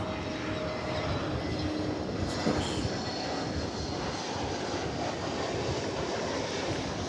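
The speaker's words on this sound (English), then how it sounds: "I do believe I see a Lufthansa plane." Lufthansa airliner at DFW Airport, a steady, broadband jet engine roar that stays loud and even throughout, with no talking.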